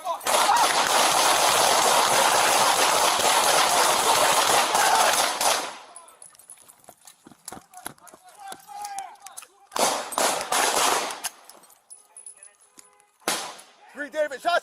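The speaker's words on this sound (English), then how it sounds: "Green David, shots fired!" A dense, roaring volley of gunshots during a police confrontation with an armed suspect, loud for several seconds and then cutting off, followed by scattered clatter and shouting voices.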